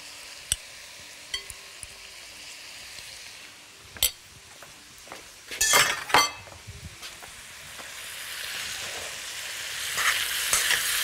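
Meat and beef hearts sizzling steadily in a pan, broken by scattered clinks and scraping strokes of stirring, with the frying growing louder toward the end.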